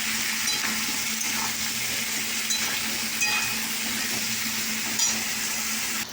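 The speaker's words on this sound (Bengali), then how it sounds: "তবে নাড়াচাড়া করবো আমি" Papaya pieces frying in a pan while being stirred, a loud continuous sizzle with occasional light scrapes and clinks of the spoon, close and steady with no voices.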